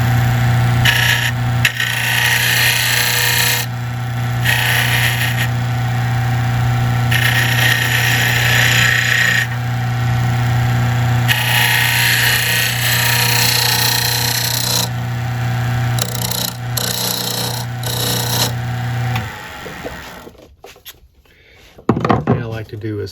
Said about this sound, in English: the skirt is starting to take shape now. And we can use our skew to just refine it just a little bit more